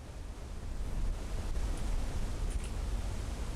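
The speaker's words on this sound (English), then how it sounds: "That is one fucking big waterfall." A large waterfall in the Blue Prince video game, heard as a steady, broad rushing roar that swells slightly and holds evenly, with no voices over it.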